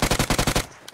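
Rapid burst of about seven automatic gunshots in a shooter video game, loud and close, ending abruptly with a faint single shot after.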